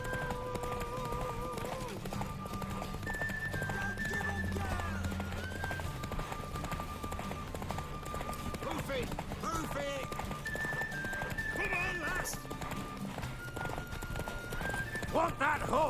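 Hooves clip-clop at a fast gallop in The Witcher 3 while a horse whinnies, under shouted voices and game music.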